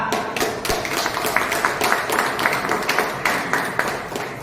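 An audience at a business plan meeting claps for a ranked achiever, a steady patter of many hands in a room, moderately loud with uneven rhythmic peaks.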